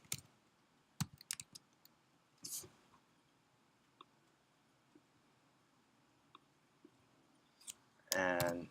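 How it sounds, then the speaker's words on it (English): Keyboard typing at a computer: sparse, faint key clicks scattered at irregular intervals, with a brief louder burst near the end. "and then just type your name"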